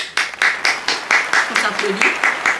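Clapping in a steady, regular rhythm of around ten sharp, close claps, with a voice speaking softly between them.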